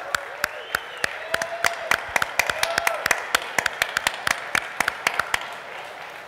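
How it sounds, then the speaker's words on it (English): Scattered, crisp handclaps from an audience at a car-giveaway event at the LIGHT Nightclub. Roughly twenty separate claps spread evenly across the stretch, over a faint hum of background music. "a round of applause, please"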